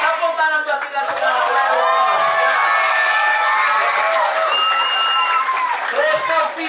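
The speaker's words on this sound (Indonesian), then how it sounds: "Tepuk tangan buat kita semua." Students at a one-day English and character camp in Bekasi applaud and cheer together, a loud, steady wash of clapping mixed with excited shouting voices that stays busy for the whole stretch.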